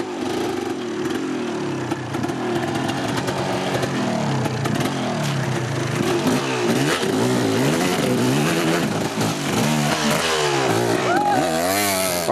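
A KTM 300 enduro motorcycle descends a steep downhill at a national enduro event, its two-stroke engine revving and varying in pitch up close, with other voices talking over it.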